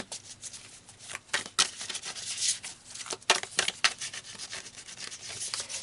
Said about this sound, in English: I just want to make sure that I give them a really good shuffle.